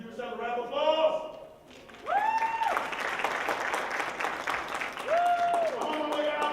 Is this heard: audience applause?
yes